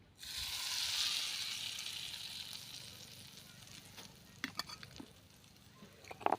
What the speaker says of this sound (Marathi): खमंग अशी फोडणी टाकायची आहे